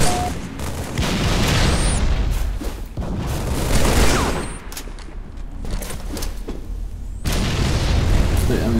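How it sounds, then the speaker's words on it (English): Grenade blasts and gunfire in a Halo video game match, loud repeated booms and bursts running throughout at close range, with a brief drop partway before the barrage resumes. "Push them out with my nade."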